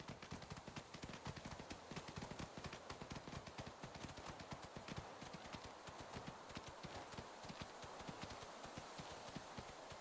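Horse hooves clip-clop steadily in a horse-riding video game, a quick continuous rhythm of hoofbeats heard fairly close and alone, without speech.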